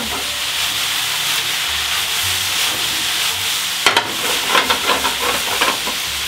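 Mushrooms fry in a pan while their water cooks off, giving a steady hiss and sizzle; near the end a few quick scrapes and taps come from tossing and turning them.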